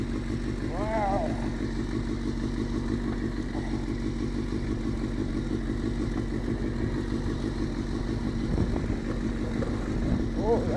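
A bullet motorcycle rides offroad with a loud, continuous engine drone and thumping rumble, rattles and clatter from rough ground, and voices faintly under the engine noise.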